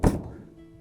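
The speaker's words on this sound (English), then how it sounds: "banging on the door" A single heavy knock lands on a door, then quickly dies away into a faint, hollow ring with no voices.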